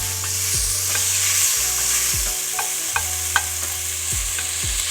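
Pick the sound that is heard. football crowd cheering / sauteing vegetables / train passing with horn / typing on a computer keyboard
sauteing vegetables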